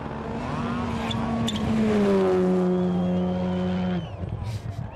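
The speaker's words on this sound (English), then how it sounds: "I just love when the turbos like tweet like a bird." A rally car at speed holds a steady, loud engine note, with a high whistling chirp from the turbo as the boost releases, then the engine drops away near the end.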